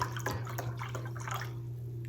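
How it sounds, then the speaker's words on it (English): Wine is poured from a bottle into a measuring cup, giving a soft, brief trickle and splash over a low steady hum, then fading to quiet. "Okay, I'm gonna pour this in here."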